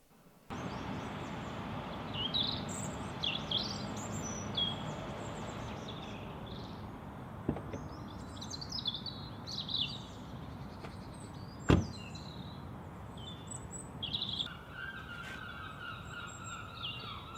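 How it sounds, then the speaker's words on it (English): Gulls cry repeatedly overhead against a steady low outdoor rumble, with a sharp bang partway through. "Just in time for the seagulls to come over."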